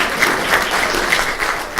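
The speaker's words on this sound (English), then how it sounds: "How about a round of applause for the dean" An audience at a community paramedicine event applauds the dean with steady, dense clapping from a roomful of people. The applause stays even throughout.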